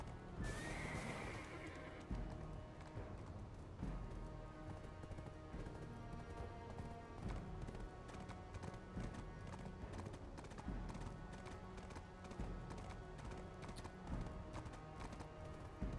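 A horse in the online game Black Desert gives a sharp whinny near the start, then its hooves clip-clop in a steady rhythm throughout, with faint game effects beneath and no talk.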